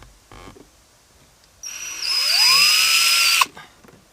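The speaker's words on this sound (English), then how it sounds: "And then go ahead and drill your holes." An electric drill boring holes for car pedals, a few soft handling knocks, then a loud whirring run of about two seconds that rises in pitch as the motor spins up before stopping abruptly.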